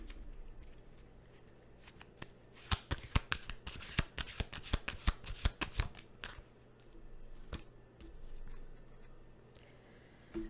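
Moon Oracle cards being shuffled up close, with a dense run of sharp flicking riffles in the middle, then a few scattered taps and slides of the deck. There is no talk.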